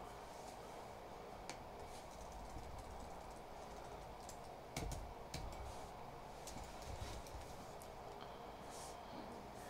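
Typing on a computer keyboard, with scattered key clicks over a steady background hiss.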